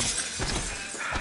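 A glass object shatters in the video game Prey, a sharp burst of breaking glass followed by scattered tinkling fragments across about a second, with no talk.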